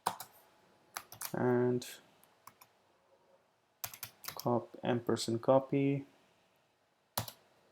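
Computer keyboard typing in short bursts of close, crisp key clicks, set between stretches of quiet talking.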